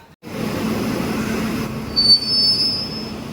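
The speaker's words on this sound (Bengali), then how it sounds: "সামনে কিন্তু লোকোমোটিভ যুক্ত হচ্ছে আমাদের ট্রেনের সাথে" A locomotive being coupled to a Kolkata–Digha passenger train at a station platform, heard as a steady, close rail rumble with a bright, high metallic wheel squeal rising midway and a brief clank-like surge.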